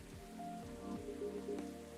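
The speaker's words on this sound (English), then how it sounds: "I just really love it when it rains outside and you're all warm indoors." Steady rain patters in the video game Coffee Talk, a soft continuous hiss heard alongside gentle tonal background music with no talking.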